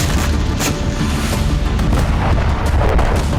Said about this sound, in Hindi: जिसकी वजह से यहां जोरदार धमाका देखा गया